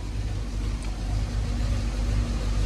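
A BMW X5 4.6is with a manual gearbox runs on a lift in first gear, its engine and spinning wheels making a steady, fairly loud low drone throughout.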